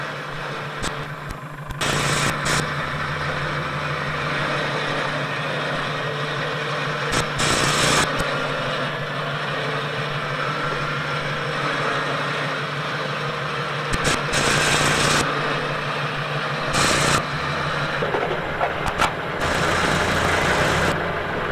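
A vehicle engine idles steadily while running an electric winch on a 1994 LSVW soft-top cable layer prototype, a constant low drone with a few louder bursts of mechanical whine and noise.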